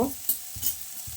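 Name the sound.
onions frying in pan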